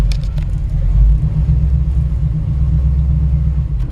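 The engine of a 1966 Chevrolet C10 pickup idles as it is put in reverse, a steady low rumble with no revving, close and continuous.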